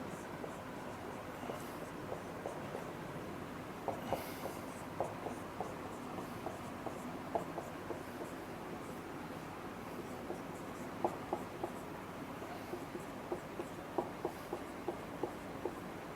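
A pen or marker writes out equations, making faint repeated scratching and tapping strokes in irregular bursts against a quiet room tone.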